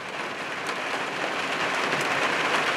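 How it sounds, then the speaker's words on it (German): Long-awaited rain falls steadily after a summer drought, a dense even hiss of drops hitting surfaces, continuous and fairly close with no voices. "Der lang erwartete Regen kommt heute Abend."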